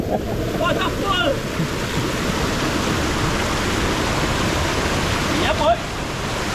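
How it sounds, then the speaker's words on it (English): Waterfall on a mountain hike in Greiggs, St. Vincent and the Grenadines, a loud, steady broadband roar of rushing water with faint voices briefly heard over it. "Wait, waterfall!"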